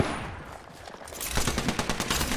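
Gunfire rattles in a battle royale game, starting as muffled distant shots and then turning into a loud, rapid automatic burst of evenly spaced pops for over a second.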